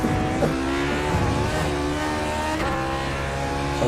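A race car in the Grand Prix Legends sim at Virginia International Raceway holds full throttle, its engine a loud, steady high-pitched roar with slight pitch shifts throughout, heard alone.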